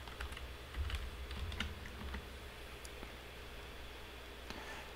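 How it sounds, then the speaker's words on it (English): Quiet typing on a computer keyboard, a scattered series of soft, light key taps spread over several seconds against faint background hiss. "We're going to type prod in here."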